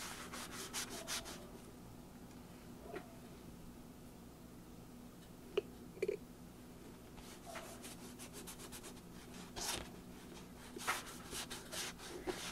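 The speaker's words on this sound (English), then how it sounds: "you can just rub it right into your page" A sponge rubs metallic paint into a paper page, giving soft, close scrubbing strokes in repeated bursts with short pauses and a few light taps in a quiet room.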